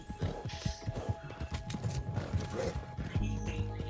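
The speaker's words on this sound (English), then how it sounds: "Sean, I love the Gypsy Cob, probably my favorite horse breed in Red Dead Online" Hoofbeats of a Gypsy Cob horse in the video game Red Dead Online, a steady clip-clop of footfalls at close range with a brief whinny-like sound, over a faint mechanical background.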